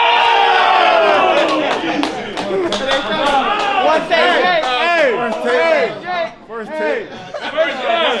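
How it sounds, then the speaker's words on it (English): A crowd packed into a sneaker store, many voices chattering and calling out over one another, with bursts of excited shouting and a few claps throughout. "We got a crowd right here, man."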